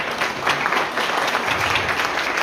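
A crowd claps steadily for a couple of seconds, a dense, even patter of applause with no pauses.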